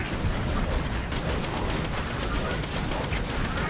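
Dense, continuous battle noise from the video game Borderlands 2, with a thrown grenade and steady gunfire blending into a loud, unbroken wash of shots and blasts over the full few seconds.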